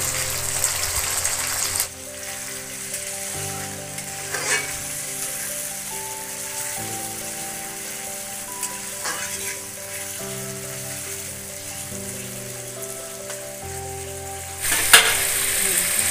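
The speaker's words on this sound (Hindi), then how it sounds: "अब हम इसमें कोटा कलेजी डाल देते हैं और इसे तीन चार मिनट तक भुनेंगे" Chicken liver sizzles steadily in a pan with golden fried onions, a continuous frying hiss with a few scraping stirs and a louder burst near the end, no one speaking.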